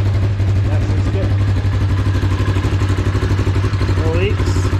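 A rebuilt car engine with a freshly installed motor and new exhaust idles steadily and loudly up close, a low even rumble with light clatter, while people talk over it.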